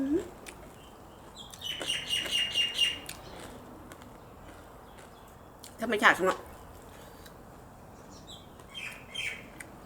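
Birds chirp outdoors in a few short bursts, with a quick flurry of calls near the start and a sharper cluster midway over a quiet background.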